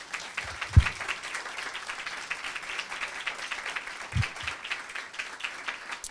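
A church congregation claps hands in praise during a Sunday service, a continuous patter of applause from many people, moderately loud and steady, with a couple of louder knocks near the start and middle.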